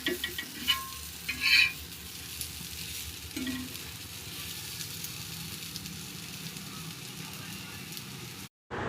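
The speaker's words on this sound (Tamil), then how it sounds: "இப்போ ஒரு கையில் ரவை வச்சுக்கிட்டு இன்னொன்று கையில் கரண்டியை வச்சுக்கிட்டு அப்படியே கொஞ்சம் கொஞ்சமாக கிண்டி விடலாம்" A ladle scrapes and stirs semolina (rava) in a pan on the stove with a soft, steady sizzle, mostly quiet and continuous with a few brief louder clinks near the start.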